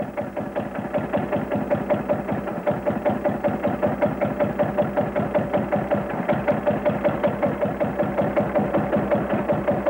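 A vintage Deutz tractor engine chugs steadily at a slow idle, its rhythmic low thumps repeating evenly and close by throughout.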